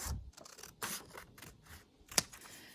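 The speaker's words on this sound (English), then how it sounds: "then you're going to cut along your line" Scissors cut through a paper sleeve pattern along a drafted line, giving several short, close, dry snips and rustles with a sharper click near the end, and nobody speaking.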